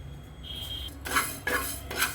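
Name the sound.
fenugreek seeds frying in a pan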